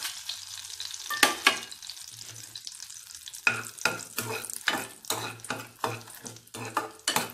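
Cinnamon, cloves, a bay leaf and fennel seeds fry in melted butter for paneer butter masala, with a quiet start followed by a steady series of sharp spoon scrapes and stirring clatters against the pan over a soft sizzle.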